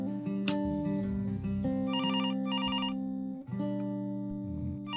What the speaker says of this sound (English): Suddenly, the phone by the side of the bed starts ringing.